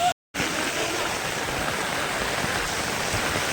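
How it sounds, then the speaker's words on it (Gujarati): Heavy monsoon rain pours down steadily, a dense, close, continuous hiss that drops out for a split second near the start and then resumes at full strength. "વરસાદ તો ધમાકેદાર ચાલુ થઈ ગયો છે"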